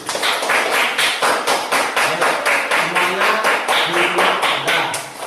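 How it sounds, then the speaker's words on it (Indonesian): A classroom of students claps for group 1 in a steady rhythmic pattern, loud and close, with brief faint voices mixed in. "kasih tepuk tangan dulu untuk kelompok 1"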